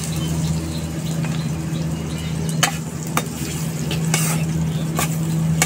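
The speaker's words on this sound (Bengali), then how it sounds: "হালকা একটু ভেজে নেব এটাকে, পেঁয়াজটাকে।" Onions frying in oil in a wok make a continuous close sizzle, with a few sharp clinks and stirring scrapes against the metal.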